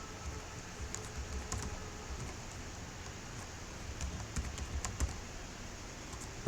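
Close, steady tapping of keys on a computer keyboard as a password is typed, a continuous run of light clicks with a few sharper keystrokes standing out.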